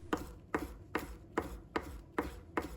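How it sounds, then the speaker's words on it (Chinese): Knife chopping scallion leaves into rings on a cutting board, seven evenly spaced crisp chops at a steady pace, close and quiet with no voices. "葱叶把它切成葱花，稍微多切一点点，这样葱香味会更加浓郁。"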